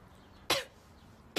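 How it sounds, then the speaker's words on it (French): Two sharp, close coughs about a second apart in a quiet room. "J'ai juste toussé, là, désolée."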